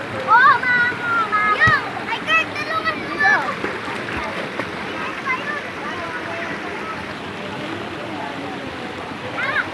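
Sand is scooped out of a shallow stream to deepen the water, with splashes and sloshing near the listener, mixed with children's high voices and other chatter throughout.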